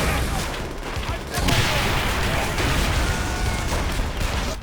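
Tank cannon blasts and rapid gunfire in Call of Duty: World at War merge into a dense, loud, continuous wall of battle noise as Soviet forces fire on retreating Germans.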